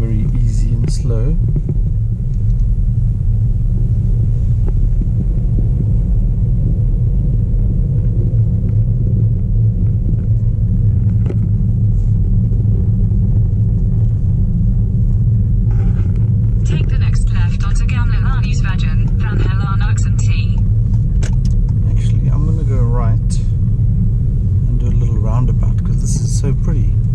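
A car driving slowly and gently past old barns through a small village on a forest drive, with a steady, loud low engine and road rumble throughout and brighter rattling noises joining in the second half.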